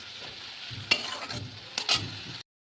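Dal sautéing in a hot pan sizzles steadily while a utensil stirs it with two or three quick scraping clinks, close and moderately loud, ending abruptly in silence.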